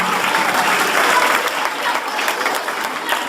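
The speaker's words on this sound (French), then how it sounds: "Je vous demande d'applaudir très fort le élèves" A crowd applauds students at a school event, loud sustained clapping that stays fairly even from start to finish.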